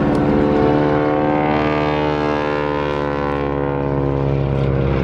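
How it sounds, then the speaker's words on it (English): An aeroplane performs aerobatics at the Eastbourne Airshow 2025, its propeller engine giving a loud, steady droning roar with a layered harmonic whine that holds without a break. "in the opposite direction to that of David, who's flying the aeroplane itself."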